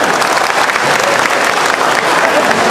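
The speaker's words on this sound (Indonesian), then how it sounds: "Aplaus." An audience at a formal gathering in East Kalimantan, Indonesia, claps loudly and continuously in a dense, even wash of applause that lasts the whole moment.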